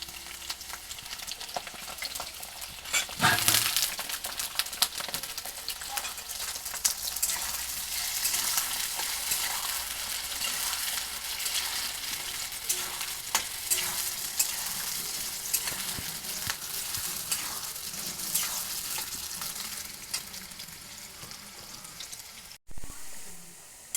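Potatoes and chopped onions fry in a pan with a steady, crackling sizzle, broken by scattered stirring scrapes and a sharp clatter early on, continuing for a long stretch.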